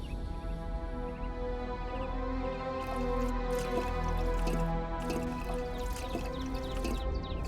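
Water drips steadily and softly for several seconds, a faint repeated dribble over a low background hum in a quiet indoor scene.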